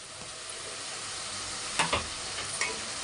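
Ground cinnamon-clove spice and coriander leaves fry in a pan for avarekalu bath, a constant close sizzle with a couple of brief stirring clinks and scrapes, no voices.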